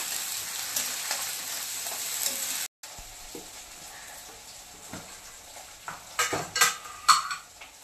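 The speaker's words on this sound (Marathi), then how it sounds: "आणखी हलवून घ्यायचे, चांगलं असं मिक्स करायचे पेस्ट वगैरे" Spice paste with asafoetida being stirred and mixed in a hot frying pan, soft sizzling with scraping spoon strokes, then a brief gap before louder, sharper stirring knocks toward the end.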